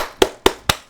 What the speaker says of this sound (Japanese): Everybody started to applaud at Fubuki's signal.